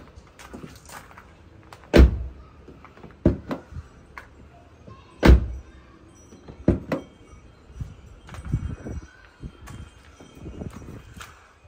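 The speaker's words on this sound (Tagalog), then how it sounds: "So, pag sinara nyo yung pinto" A Suzuki S-presso car door being shut, with a firm thud near the start and a second solid slam a few seconds later, plus softer clicks and handling knocks around them.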